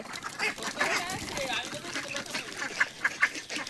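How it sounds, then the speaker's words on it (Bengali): A flock of ducks quacks in short, faint bursts outdoors, mostly buried under nearby talking. "কত হাঁস দেখো"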